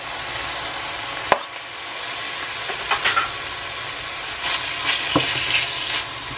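Pork and chopped vegetables sear in a hot frying pan, giving a constant close sizzle broken by a few sharp scrapes and clacks of stirring, with no voices.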